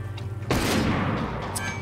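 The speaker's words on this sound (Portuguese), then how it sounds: "eu vou dar um tiro daqui" A single loud gunshot in Hard West 2, a sharp close blast with a booming tail that rings out after a quiet lead-in, with faint game ambience around it.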